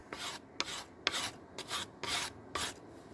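Rhythmic rasping strokes of sandpaper rubbing along a bass guitar's edge down to the fingerboard, about six short passes in steady succession, close and fairly quiet.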